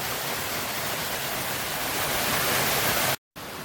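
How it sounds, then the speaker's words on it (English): A waterfall beside the Klamath river roars as steady, dense broadband rushing water, loud and continuous, with a brief cut to silence near the end. "And then a waterfall."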